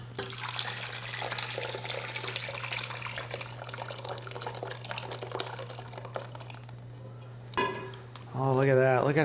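Sunday gravy, a tomato meat sauce, pours into a pot in a steady liquid stream for several seconds, then it stops, a clatter sounds and a voice begins talking at the end.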